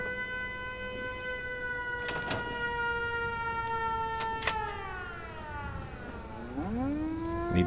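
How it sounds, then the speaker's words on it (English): A wailing electronic siren in a video game, with layered steady tones, holds, then sweeps down and rises again, loud and continuous with no talking. "See, the siren came on."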